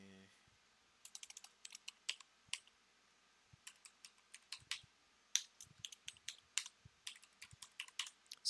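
A password typed on a computer keyboard: quiet, close key clicks in short irregular bursts with brief pauses between, alone with no voices.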